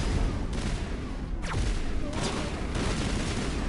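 Rapid gunfire in the Mass Effect video game, a dense continuous fusillade with a few sharper shots standing out against the steady loud background of combat.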